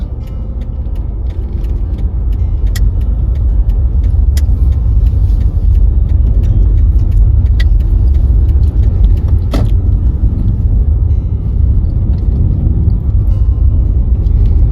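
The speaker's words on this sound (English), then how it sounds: "so we're going to drive off" A car pulling away from a parking lot at the start of a summer road test in Edmonton, heard from inside as a steady, loud low engine rumble with a few faint clicks and knocks, no talking.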